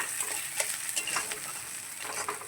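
Onions frying in oil in a pan over a high gas flame, with a steady close sizzle and occasional stirring scrapes, no voices.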